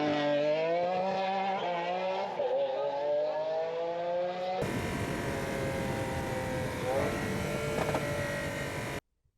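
A Lamborghini's naturally aspirated V12 engine revs with a steady harmonic scream that sweeps up and down, then shifts into a louder, rougher full-throttle roar before cutting off, close and continuous.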